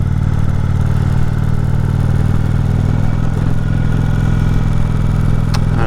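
A motorcycle climbs the Mount Washington Auto Road, its steady, close engine drone running loud and unbroken with some clatter and wind, and no one talking.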